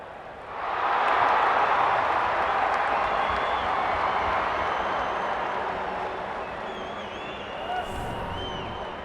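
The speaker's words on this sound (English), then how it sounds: "The crowd already making plenty of noise as the captains come together." A rugby league stadium crowd roars with cheering and clapping, a dense sustained wash of noise that swells in after the first half-second and holds loud throughout, thinning only slightly toward the end.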